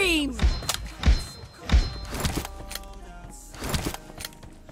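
Weapon reload in the mobile shooter PUBG Mobile, a quick sequence of heavy mechanical thunks and clacks with a rising whine at the start, followed by further clattering handling noises, loud and close.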